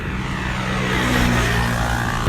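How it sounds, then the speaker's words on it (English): Motorbike passing by outdoors, a loud droning engine that swells steadily as it approaches, heard alone. "There's a motorbike gonna pass."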